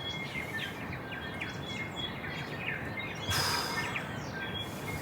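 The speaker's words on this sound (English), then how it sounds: "You can hear those birds outside." Birds chirp and tweet outside a hot tent while camping in a rainforest, quick faint calls repeating over a steady background hiss, with a brief brighter burst of noise partway through.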